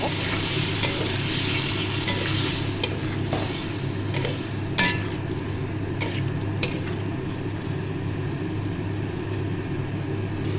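Spice paste being stirred and fried in a pan for a fish egg curry, a steady close sizzle with scattered scraping clicks of a spoon against the pan.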